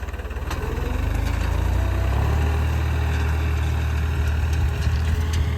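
A New Holland 3600-2 tractor engine runs steadily at high revs during wheat sowing, a loud continuous low rumble with a constant drone throughout, close by and with no talk.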